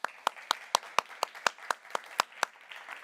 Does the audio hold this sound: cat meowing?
no